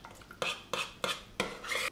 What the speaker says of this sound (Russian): И постоянно размешиваем, растираем для того, чтобы соус получился однородным